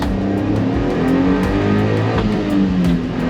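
A Honda Acty kei truck engine revs up steadily as it accelerates in first gear, a continuous mid-pitched drone that climbs slightly, loud and close throughout.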